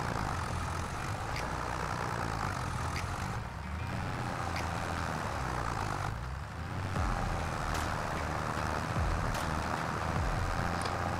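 A tractor engine labours under a heavy load in Farming Simulator 25, a steady, loud low drone that runs continuously with slight dips in intensity and no talk over it.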